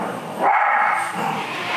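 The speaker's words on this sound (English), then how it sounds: "Sorry for the dog." A dog barking nearby, a loud sharp bark or two rising over a steady background hum with no voices.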